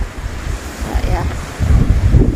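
Rough sea surf rolls onto the coast under heavy gusting wind, with a low churning rumble that swells near the end and buffeting wind on the microphone.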